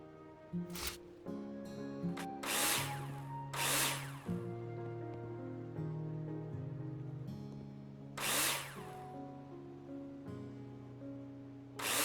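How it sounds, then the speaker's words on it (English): In the video game Builder Simulator, a power drill drives screws into plasterboard: several short, bright whirring bursts with pauses between them, set against steady background music. "Take your drill out and screw them in."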